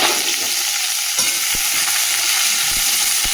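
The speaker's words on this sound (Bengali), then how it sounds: "তেল দিয়ে দিয়েছি কড়াতে, সর্ষের তেল গরমও হয়ে গেছে। এর মধ্যে এই যে রসুন, কাঁচা লঙ্কা দিয়ে দিচ্ছি" Garlic and green chillies sizzle steadily in hot mustard oil in a kadai, a loud, continuous hiss with a few sharp clicks of stirring and no talk.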